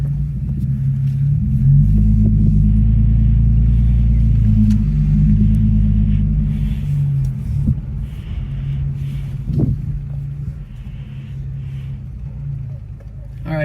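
A 2002-2005 Lexus IS300 drives slowly in search of a parking spot, heard from inside the cabin as a steady, loud low engine and road rumble with faint wind noise throughout.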